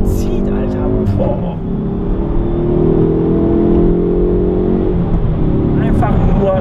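A Hyundai i30N accelerates hard, its engine note climbing steadily in pitch and loudness before easing off, heard close from the cabin with people talking over it.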